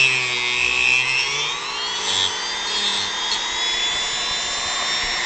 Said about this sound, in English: we're using the natural circle of the saw to kind of do this